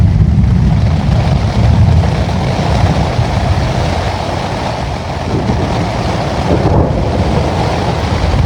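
A heavy thunderstorm batters a loosely pitched tent with a constant, loud roar of wind and rain that swells and eases slightly without pause.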